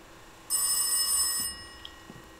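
A telephone in the horror video game Rise of Insanity gives one bright, loud electronic ring lasting about a second, followed by quiet room tone with small faint clicks.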